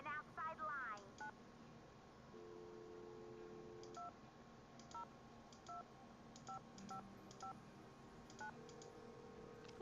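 Telephone keypad tones in the Nancy Drew game Secret of the Scarlet Hand: a dozen or so short, crisp beeps in an irregular dialing rhythm, preceded by a brief rising electronic chirp, over a quiet steady background.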